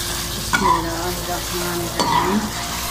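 Pre-boiled beef pieces sizzle and fry in a ready masala for beef pulao, with steady crackling and two scraping stirs of a spoon through the pot.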